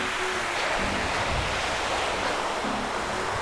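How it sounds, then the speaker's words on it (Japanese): Ocean waves crash and wash steadily onto a beach at a roadside station in Kitaura, Oita, Kyushu, a continuous, close, full roar of surf with no pause. "今日は波がまあまあザバンだザバン"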